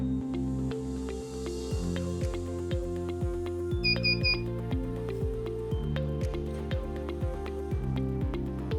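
Three short, high electronic beeps from an Arduino ESP8266 buzzer signalling Wi-Fi connection sound in quick succession over steady rhythmic music in the background.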